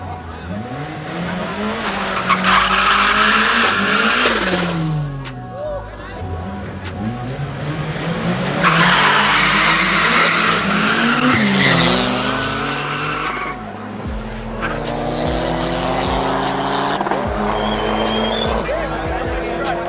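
Drag race cars launch down the strip at a Nasrec night meet, including Valkyrie I and Turbo Conquest: loud, close engines scream through rising gears with tire squeal, in repeated waves of acceleration, while a commentator talks over the roar.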